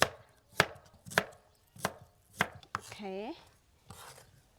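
A knife chopping shallots and garlic on a cutting board, about five crisp evenly spaced chops, close and clear, with a brief squeaky scrape partway through.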